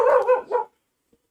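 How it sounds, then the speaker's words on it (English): A dog barks several times in quick succession, close and loud, for about half a second before falling silent, with a faint distant sound near the end. "What are you barking at?"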